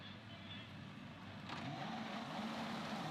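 Race cars on the formation lap at Magny-Cours make a steady, distant engine drone that swells slightly midway, with a commentator talking over it.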